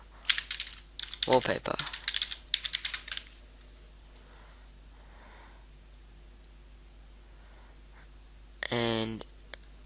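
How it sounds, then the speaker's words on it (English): Fingers type on a computer keyboard in quick clattering bursts, then a pause and one more short flurry of keystrokes; a person speaks briefly nearby. "if you want a Vista wallpaper, just type in Vista"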